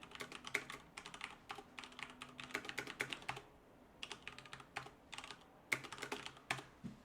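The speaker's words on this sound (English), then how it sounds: "lets you type in a bunch of stuff, and when you're done typing" Fast, uneven bursts of keystrokes on a computer keyboard, close and fairly quiet, with short pauses between flurries of typing at a command line.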